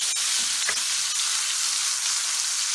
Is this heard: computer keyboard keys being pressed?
no